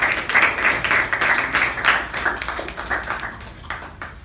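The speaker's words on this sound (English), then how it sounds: "Can we have a round of applause for our humorous table topic master?" Audience applause at a Toastmasters club meeting, many hands clapping together in a steady, dense patter that swells and then gradually thins out.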